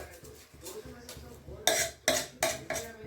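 Sona Masuri rice frying for pulao in a pan, with a metal spoon scraping and clanking against the pan in sharp, uneven strokes over a soft sizzle.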